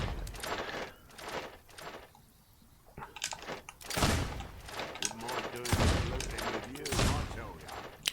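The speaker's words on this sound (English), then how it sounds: "I can fire off faster with the pistol." Turret pistol shots in the Fable 2 video game: a few loud, sharp reports in quick succession, with clattering game sounds between them.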